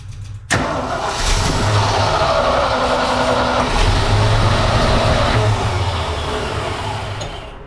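An old fire truck engine cranks briefly and catches, then settles into a loud, steady running rumble that fades slightly toward the end, with no voices.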